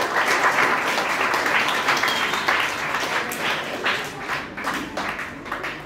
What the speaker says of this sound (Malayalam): ആ ഒരു പരിശ്രമത്തിന് നമുക്ക് തന്നെ ആദ്യം അദ്ദേഹത്തിന് ഒരു വലിയ ക്ലാപ്പ് കൊടുക്കാം